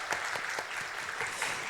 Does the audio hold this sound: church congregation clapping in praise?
yes